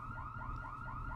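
An alarm blares in a restaurant kitchen scene, a loud continuous wavering electronic tone with a rapid repeating pitch sweep filling the whole moment.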